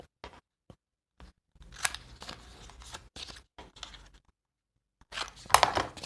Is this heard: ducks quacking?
no